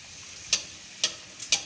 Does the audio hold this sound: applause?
no